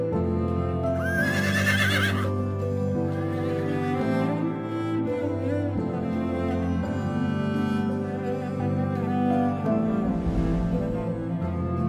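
Horses whinny and neigh in a stable, a loud high call near the start and another toward the end, over steady music-like background tones and faint hoof movement.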